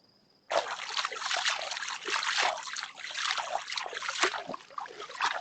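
Water of the Sea of Galilee sloshes and splashes steadily around knee-deep legs as someone wades, a close, continuous churning with brief surges, starting abruptly after a quiet moment.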